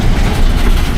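Train passing on a rail line in Loyall, a loud, close, continuous low rumble of rolling wheels and heavy engine noise filling the moment.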